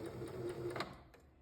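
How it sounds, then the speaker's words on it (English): A sewing machine runs a slow straight stitch with a quiet, steady mechanical whir that stops abruptly about two thirds of the way through. "As I'm sewing nice and slow."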